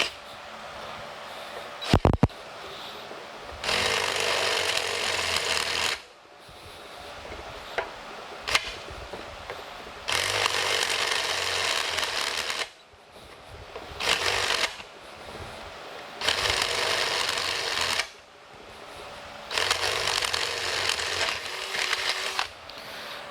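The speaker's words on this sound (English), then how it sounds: "we're going to drill these out and then tap them" Several stretches of steady grinding as cast iron is drilled by hand, each lasting a few seconds with pauses between, close and moderately loud, no talking.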